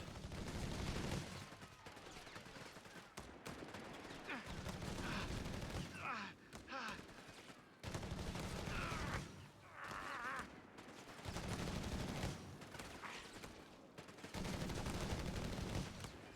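BAR rifle fire from riflemen squads in Company of Heroes 3, a steady battlefield clatter of automatic bursts and shots with brief pauses, under a talking voice.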